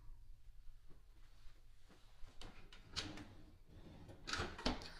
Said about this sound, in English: Those are soft close drawers here.